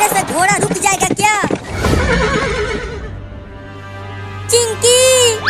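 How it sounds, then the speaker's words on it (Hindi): A cartoon horse neighs in loud, shrill whinnies over hoofbeats, with animated voices talking between the calls and another whinny rising at the end. "अबे रुक जा घोड़ा"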